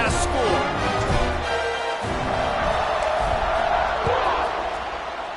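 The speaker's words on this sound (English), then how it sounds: "this crowd is buzzing after that last score" A football stadium crowd buzzes after a score in a 21-10 game, a broad roar of many voices at a sustained level, with a few louder swells and thuds mixed in.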